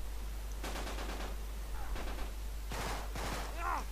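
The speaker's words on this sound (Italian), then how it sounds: "A chi cazzo spara il Joel?" Bursts of automatic gunfire from an online match of the PlayStation 3 game Uncharted 3, rapid rattling volleys over a steady low hum, a few separate bursts within a few seconds, with a faint voice near the end.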